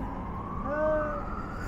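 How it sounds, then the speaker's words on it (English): A fire department emergency siren passing on a street in Wellington, New Zealand, a faint wailing tone rising and falling over steady background noise. "Oh, sirens."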